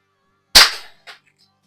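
A Crosman Mark 1 air gun fires once at a paintball target, a sharp, loud crack that decays over a few tenths of a second, followed by a faint short impact or echo.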